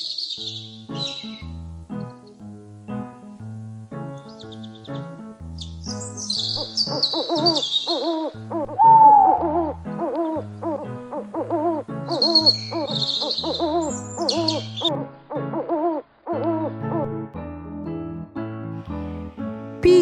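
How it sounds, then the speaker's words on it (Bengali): An owl hooting over a bright, tuneful children's music backing, its calls breaking through the melody as recurring hoots and chirpy notes. "পেঁচা।"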